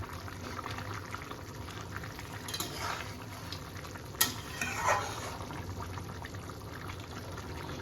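Boirali fish curry with coriander leaves bubbles in a pot while a spoon stirs it, giving a soft continuous boil and a few brief clinks and scrapes, close but quiet.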